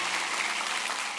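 Steady applause from a church congregation, a continuous dense patter of clapping holding at even loudness throughout, with no voices on top.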